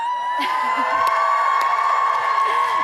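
A rally crowd of union members cheers and whoops loudly and continuously, with scattered shouts rising above the roar.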